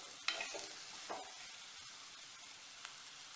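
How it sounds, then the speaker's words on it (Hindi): Chopped onions sweat quietly in a pan as a spoon stirs them, with a few soft scraping strokes over a faint, steady sizzle. "इन चीजों को हम मिलाकर फिर मास पे छोड़ देंगे ढककर और बीच बीच में चलाते रहेंगे ताकि हमारी प्याज अच्छे से स्वेट हो जाए।"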